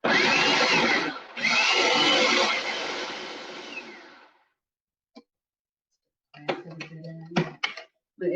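A blender whirs loudly while mixing radish leaf pesto, running steadily, pausing briefly, then winding down over about three seconds before going quiet; afterward come a few clunks and muffled handling sounds.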